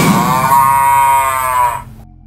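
A sickly sacrificial cow in a cartoon about a cattle seller lets out one loud, drawn-out moo that holds steady before cutting off.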